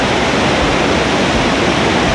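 Thundering water pours down a waterfall at Fairy Glen in Snowdonia, a loud, dense, unbroken roar close by with no pauses and no voices.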